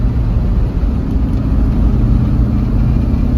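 A Ford F100 pickup with a swapped-in Coyote V8 engine runs at about quarter throttle, giving a steady, loud, low rumbling drone that holds an even level throughout.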